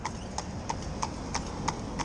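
A big-boned horse's hooves clip-clop on a hard surface in a steady, even rhythm of about seven faint, evenly spaced strikes.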